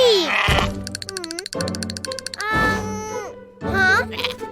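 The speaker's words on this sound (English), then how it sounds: "Whoa! Black sheep!" A cartoon black sheep bleats in several loud, wavering cries with breaks between them, set against playful animated sound effects.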